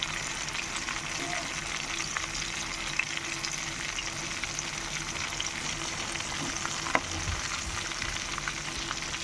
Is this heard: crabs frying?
yes